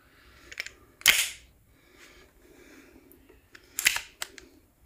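Pistol slide locking back on an empty magazine after a lockback fix: two sharp metallic snaps about three seconds apart, each with a brief rattle of smaller clicks, close and loud over a quiet background.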